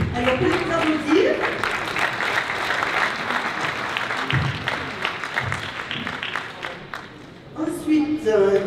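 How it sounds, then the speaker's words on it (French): Applause from the audience at a town New Year's wishes ceremony in Banyuls-sur-Mer, sustained clapping with a few voices and murmurs mixed in, swelling again near the end. "on peut les applaudir."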